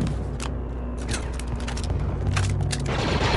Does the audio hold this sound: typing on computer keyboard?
no